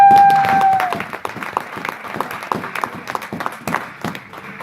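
A church congregation breaks into applause, a loud wash of clapping that starts strong and gradually thins into scattered claps and crowd murmur.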